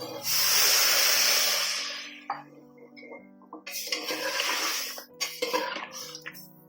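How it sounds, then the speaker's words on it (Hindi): Water gushes into a metal pressure cooker pot of potato and papaya curry with a loud hissing rush for about two seconds, followed by clinks and scraping of a utensil against the pot. "इसे चला के पानी डाल देंगे, 1 गिलास पानी।"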